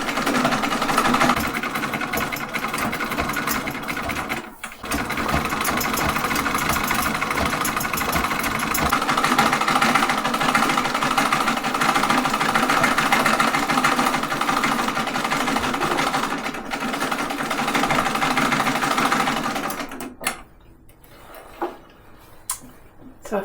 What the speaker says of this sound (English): I do actually think that my lovely old machine is sounding a little bit better.